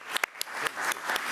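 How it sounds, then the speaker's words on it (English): A board-meeting audience applauds a student as she comes forward: a short burst of scattered clapping that begins sparse and fills in, moderately loud, with no talk. "Let's give Kendall a round of applause as she comes forward."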